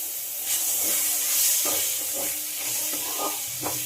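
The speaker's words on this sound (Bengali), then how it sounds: "এবার মশলাগুলোকে একটু ভালো করে ভেজে নিতে হবে" Spices and a handful of soaked raw chickpeas fry in a pan for an elephant foot yam curry, giving a steady hiss and sizzle with a few soft stirring scrapes and no talking.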